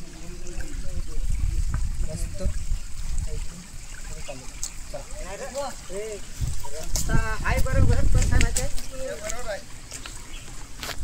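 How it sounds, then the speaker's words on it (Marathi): A small spring-fed stream trickles and flows steadily outdoors, a constant watery wash running the whole way through while people talk over it. "पाणी असा वाहत आहे. छोटासा झरा, छोटासा झरा."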